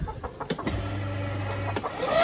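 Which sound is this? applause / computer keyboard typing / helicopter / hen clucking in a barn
hen clucking in a barn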